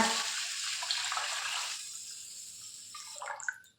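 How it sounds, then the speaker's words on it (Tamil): Water is poured over washed rice in a bowl for Kerala palappam batter, a steady close splashing stream that thins to a lighter trickle before stopping. "இப்போ அரிசி முங்குற அளவுக்கு தண்ணி சேர்த்துக்கோங்க"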